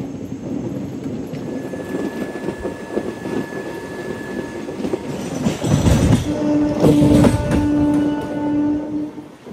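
A MEMU passenger train runs on tracks near Kovvur station on the Rajahmundry to Bhimavaram line, with a continuous rumble and clatter of wheels, a swell of louder rolling noise and a sustained horn-like tone toward the end.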